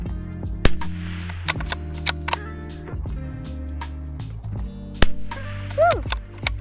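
A Springfield Model 2020 rimfire rifle fired at a can, giving sharp, sudden cracks spaced irregularly over a steady background hum, with a few faint voice sounds between the shots.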